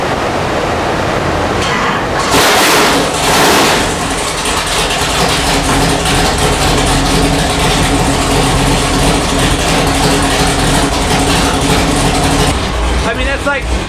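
A 572 cubic inch big-block Chevy V8 with a small hydraulic roller cam in a 1969 Camaro, idling loud and lumpy up close, with a brief rev near the start and a voice talking over it.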